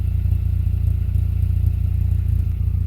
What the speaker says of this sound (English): I really like the sound of the exhaust.